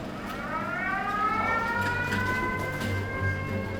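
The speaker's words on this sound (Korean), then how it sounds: "동명부대에 비상대피 사이렌이 울렸다." A military base emergency evacuation siren in southern Lebanon wails, rising and falling steadily, heard from a distance over a low background rumble.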